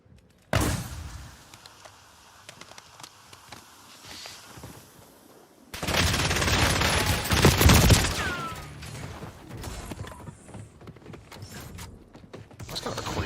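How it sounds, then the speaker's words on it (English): Call of Duty Warzone gunfight: after a sharp opening shot, scattered gunfire and clattering build into a loud, dense burst of shooting midway, then settle into intermittent shots and game effects. "That's kind of a crazy last gunfight."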